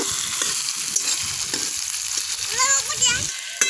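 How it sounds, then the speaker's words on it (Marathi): Potatoes, peanuts and capsicum sizzle and crackle in oil on a wood-fired chulha, a loud, steady frying hiss with stirring throughout and faint voices in the background. "तर बटाटे शेंगदाणे सिमला मिरची सगळं टाकते आता, आता छान परतून घे"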